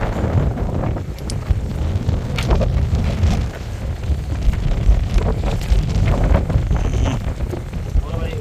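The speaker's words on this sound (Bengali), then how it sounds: "ও বাতাস," Strong wind buffets the microphone aboard a small fishing boat on the Padma river, a steady low roar running throughout, with faint voices mixed in beneath the gusts.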